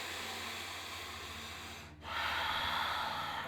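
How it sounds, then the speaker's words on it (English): Deep yoga breathing sounds close and soft, with a long steady exhale, a brief pause, then a fuller airy inhale. "Take 3 breaths."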